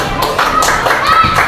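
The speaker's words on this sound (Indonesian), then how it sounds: "Tepuk tangan untuk Rizky." A primary school class gives Rizky a brief burst of clapping under voices.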